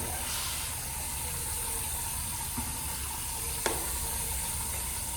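Hot water runs from a tap into a sink after a head shave, a steady close splashing stream with a couple of small knocks partway through.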